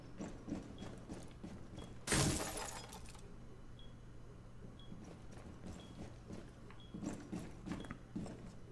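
A loud window smash in the Rainbow Six Siege video game bursts into a crash of breaking glass, followed by quieter footsteps, clicks and scattered debris amid low background hum.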